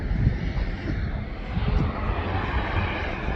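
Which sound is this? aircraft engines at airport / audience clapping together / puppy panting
aircraft engines at airport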